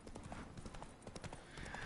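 In The Witcher 3, a horse's hooves clip-clop in a quick, even gait, brisk rhythmic clops heard quietly in the game.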